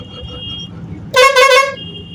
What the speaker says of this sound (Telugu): ఇటు లెఫ్ట్ తిరగాలని సిగ్నల్ ఇస్తాను హార్న్ కొట్టుకుంటూ వచ్చేస్తున్నాను